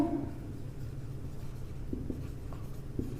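Pen or chalk scratches out short strokes during a maths lesson, a faint, quiet scribble with a few soft taps against a low room hum, and no voice.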